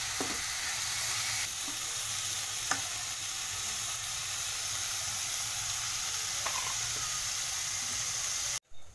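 Shrimp stir-frying in a pan until cooked and dry, a steady moderate sizzle with occasional faint utensil taps, ending in a sharp clunk.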